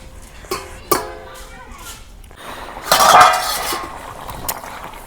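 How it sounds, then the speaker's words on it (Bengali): A metal lid set back onto a cooking pot of simmering sweet pumpkin curry in a village-style kitchen, heard as two sharp clinks followed by a louder scraping clatter, close by with faint background voices. "এখন আবার ঢাকা দিই।"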